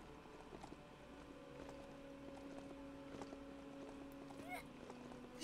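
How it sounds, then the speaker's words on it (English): Biomutant video game mount sound: rhythmic hoof-like clip-clopping steps with a sustained tonal hum beneath, fairly quiet and steady, ending in a brief louder swell. "That's the giddy up sound effect."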